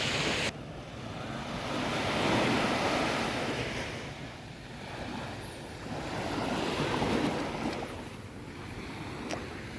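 Gentle waves roll onto Phayun Beach, a continuous hushing surf that swells and recedes in slow cycles, with light wind buffeting the microphone and no voices.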